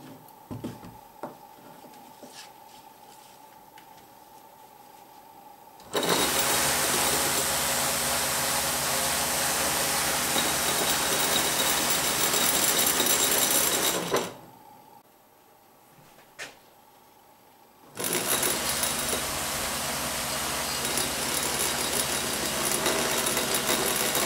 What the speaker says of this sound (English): the experimental quadcopter lifts slightly off the ground, but can't keep itself in the air